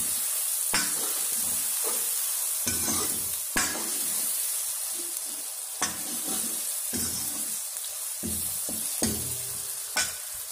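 Egg bhurji masala with turmeric being stirred and fried in a pan: steady sizzling with repeated scraping stirs of the spoon, close and continuous, no voices.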